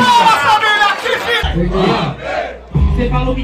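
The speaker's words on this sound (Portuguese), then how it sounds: "Palmas, família, palmas, família, que vida!" Crowd at a rap battle erupts in loud cheering and shouting after a rapper's rapid speech, with bursts of roaring voices and a second swell near the end.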